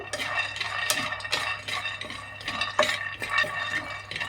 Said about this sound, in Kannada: ಒಂದು ಪ್ಯಾನ್ ಬಿಸಿ ಇಟ್ಟಿದ್ದೀನಿ ಒಂದು ಅರ್ಧ ಕಪ್ಪಷ್ಟು ಕಡಲೆಕಾಯಿ ಬೀಜ ಹಾಕ್ಕೊಳ್ತಾ ಇದ್ದೀನಿ